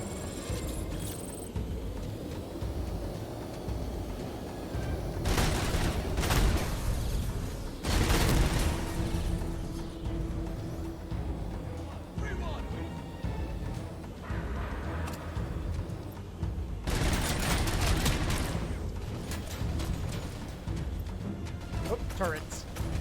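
Automated turret gunfire in the Robocop: Unfinished Business video game, with bursts of shots and booming impacts over a dense game mix, while a voice talks throughout.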